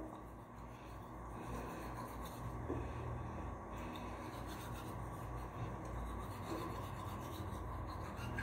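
Close, steady scrubbing of a toothbrush on teeth, a continuous soft rasping that carries on without pause for several seconds, with no speech over it.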